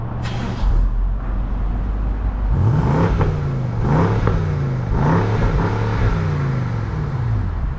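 BMW M550i engine on its stock exhaust in Comfort mode, revved repeatedly in a loud, close series of rising and falling pulls after a steady idle.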